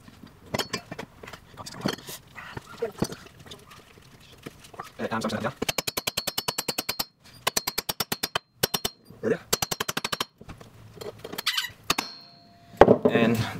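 Scooter bar extensions and grips struck into place on handlebars, a loud series of rapid, evenly spaced sharp knocks in several bursts, with scattered clatter and handling noise between them.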